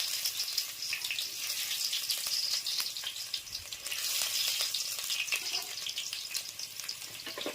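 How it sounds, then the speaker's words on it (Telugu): Onions sizzle and fry in hot oil with cumin seeds for a Telangana-style stuffed brinjal masala curry, a steady bright crackling hiss running unbroken with small spits and pops. "నూనెలో మంచిగా ఉల్లిగడ్డ అనాలి."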